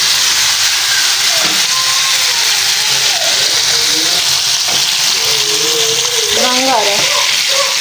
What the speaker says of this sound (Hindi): तो अभी मैं इसे फ्राई करने जा रही हूँ बहुत ही अच्छे तरीके से